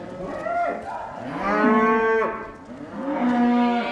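Cattle being brought back indoors after time out on a farm low loudly several times, with long drawn-out moos, near and clear, with no talking.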